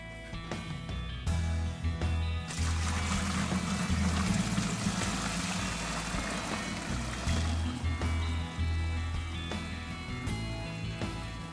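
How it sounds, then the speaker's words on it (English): Water rushes through double rows of 6-inch Hydraway foundation drainage in a steady, continuous flow, a broad wash of running water that stays even throughout with no voices. "we're going to do this test showing how fast water goes through double rows of 6-inch Hydraway"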